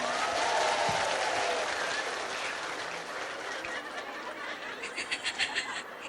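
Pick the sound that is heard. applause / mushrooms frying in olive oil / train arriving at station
applause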